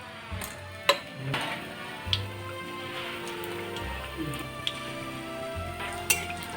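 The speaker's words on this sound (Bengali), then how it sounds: "এইবার একটা একটা করে চপ ভেজে নেবো" Jackfruit chops coated in besan batter frying in hot oil in a kadai, with a steady soft sizzle under scattered sharp clinks and taps from utensils.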